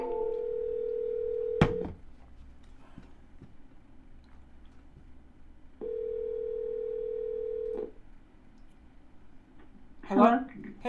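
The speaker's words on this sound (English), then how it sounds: "Let's keep calling. Smile and dial." A telephone call being placed for a real estate wholesaling offer: a steady dial tone, a sharp click, then a second long tone of ringing, followed by a brief burst of noise near the end.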